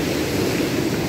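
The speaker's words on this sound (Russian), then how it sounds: "Море сегодня беспокойно." Rough, restless sea waves wash onto the shore by a hotel beach, a steady broadband rush without pause.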